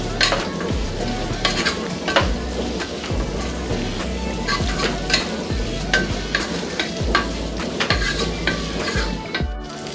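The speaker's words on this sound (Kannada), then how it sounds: "ಇದನ್ನೆಲ್ಲ ಚೆನ್ನಾಗಿ ಫ್ರೈ ಮಾಡ್ಕೋಬೇಕು" Ridge gourd chutney ingredients fry in a pan, giving a busy, loud sizzle with rapid crackling and repeated scraping and clinks as they are stirred.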